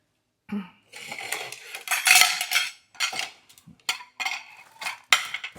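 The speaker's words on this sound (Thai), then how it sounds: "เอาเอาจานช้อนมาเนี่ย" Ceramic plates and metal spoons clatter and scrape as they are handled and set down in a Thai street-food kitchen preparing a platter of pounded jellyfish salad, with a series of close, loud bursts and short pauses.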